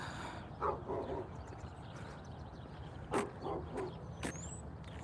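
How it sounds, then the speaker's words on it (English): A dog barks from some distance outdoors during a walk, a few short yapping bursts spaced apart over steady background noise, faint and with no talk. "There's that dog again."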